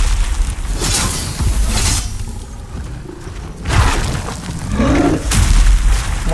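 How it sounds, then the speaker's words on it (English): Enemies firing at the player in the Demon's Souls remake, heavy booming blasts and whooshing impacts arriving in several bursts, loud and close, with quieter gaps between. "those guys are shooting me now"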